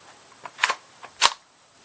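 Quiet, sharp cracks from a suppressed Rossi .22LR rifle firing Remington subsonic ammunition, two small snaps followed by a louder pop, each short and dry, heard up close.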